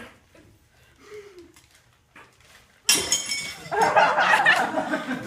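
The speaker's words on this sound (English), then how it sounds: "My glass menagerie. Shit, sorry, Laura" A glass figurine shatters with a sudden bright crash that gives way to scattered tinkling shards and laughter, after a quieter stretch of soft voices and small noises.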